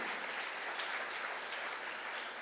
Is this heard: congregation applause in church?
yes